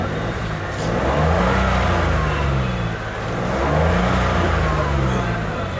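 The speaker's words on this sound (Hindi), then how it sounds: "तो आपको एक बार रेस करके दिखाता हूँ। अपनी गाड़ी भी स्टार्ट हो गई है" A Datsun Go+ car engine, just restarted after a security light fault was fixed, is revved twice in slow swells, rising and falling loudly up close with no talking over it.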